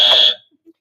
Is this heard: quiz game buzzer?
yes